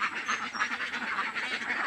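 Ducks on a duck farm quack in a busy, overlapping chorus, fairly faint and continuous across a short stretch.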